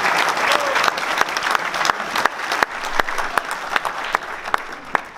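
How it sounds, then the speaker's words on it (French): Applause from an audience at the presentation of the 21st Nuits-Saint-Georges half-marathon, a continuous wash of clapping with sharp individual claps popping out near the microphone, fading slightly toward the end. "je vous demande d'applaudir la charmante Valérie Dureuil."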